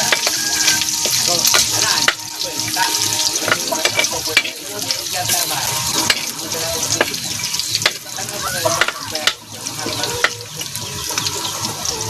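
Ginger frying in hot oil for escabeche, a steady dense sizzle with sharp spattering crackles throughout, with occasional clinks of stirring and possible running water in a home kitchen.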